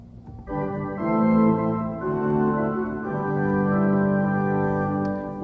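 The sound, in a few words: chancel organ 2-foot stop, extension of stopped diapason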